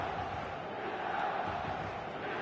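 A stadium crowd in the eFootball 2026 football game roars in a steady, dense wash of cheering and chanting that holds at an even level throughout.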